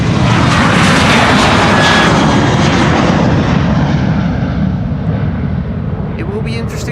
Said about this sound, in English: the 737 now lining up on the threshold